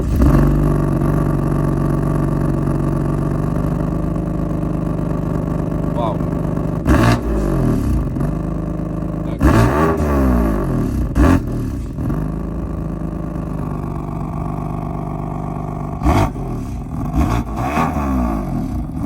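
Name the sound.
BMW M4 tuned engine revving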